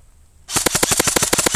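Rapid string of sharp airsoft pistol shots fired outdoors during an airsoft game, a dense burst of close, loud cracks starting after a brief quiet moment, with no talking.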